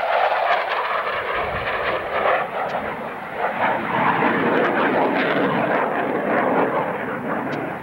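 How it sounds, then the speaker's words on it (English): An airplane at a 1989 air show in London, Ontario, flies a knife-edge ballistic pass, a loud, continuous broadband engine roar that swells and sustains across the whole stretch with no voices over it. "This is a ballistic pass in which the airplane traces the path of a bullet across the sky in knife-edge"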